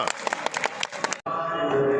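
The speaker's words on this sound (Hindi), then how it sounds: "तालियां" Audience applause at a staged dance drama, a dense patter of clapping that cuts off abruptly, followed by a sustained musical tone.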